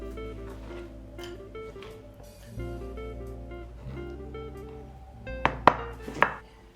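A knife dices a salad tomato on a board, with a few sharp, close chopping taps near the end over a steady bed of background music and hum.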